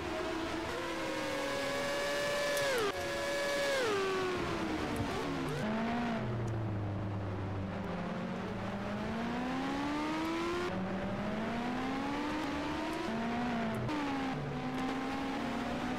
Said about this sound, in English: Cars coming in and out of pit lane here.